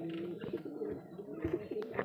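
A paired male and female house pigeon cooing close by, a steady run of low throaty coos with short breaks, rising in the last half second.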